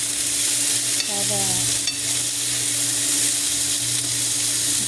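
Bitter gourd (ampalaya) sautéing in a pan with broth added makes a steady sizzle close by, with a couple of brief clinks from stirring.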